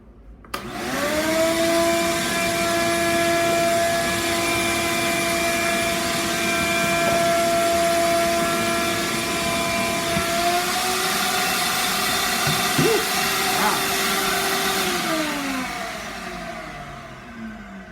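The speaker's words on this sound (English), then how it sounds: "So I built this vacuum forming box for my windshield. I'm gonna test it out here and see if it works." A vacuum forming machine runs with a steady, loud motor drone and whining hum for most of the clip, then winds down and fades near the end.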